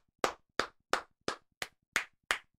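Seven sharp hand claps in an even, unhurried rhythm, close and clear, with no voices.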